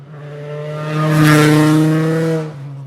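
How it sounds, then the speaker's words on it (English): A Rally 1 rally car passes nearby, its engine note holding steady and swelling in loudness before fading, heard alone with no talk over it. "It's a brace of Rally 1 cars."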